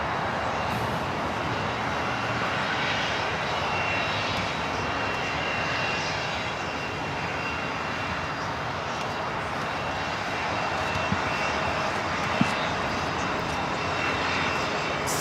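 A Cessna Citation X business jet at LAX gives off a continuous, even engine roar that stays loud and steady throughout, with a couple of faint clicks and no speech.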